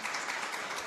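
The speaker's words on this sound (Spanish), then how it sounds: "Hay un aplauso" Audience applause at a talk on the Zohar and Kabbalah, honoring co-authors of a book on Jesus and the Kabbalah; a brief, fairly faint, steady wash of clapping from a crowd.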